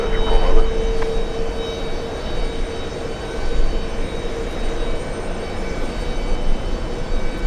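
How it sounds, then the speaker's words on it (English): A JetBlue airliner lands on runway 22 right at JFK, its engine roar a steady broad rumble at moderate distance with a faint whine, no talking. "JetBlue coming in on the closest runway, 22 right"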